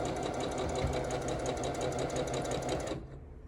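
A sewing machine stitches quilt pieces with a fast, even mechanical chatter of rapid needle strokes, running loud and close for about three seconds before stopping abruptly.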